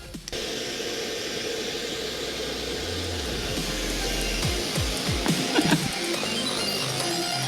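A hairdryer with a ping pong ball floating in its air stream blows a steady, loud whooshing hiss for several seconds, continuous and alone with a faint rumble underneath.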